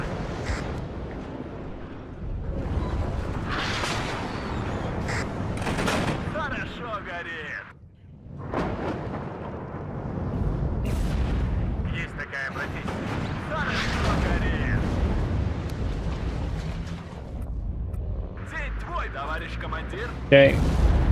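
Heavy artillery booms and rumbling blasts roll through the WARNO wargame battlefield. Steady talking runs over them throughout.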